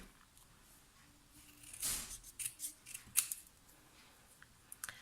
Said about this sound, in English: So I'm just going to trim it as close to the writing as I can.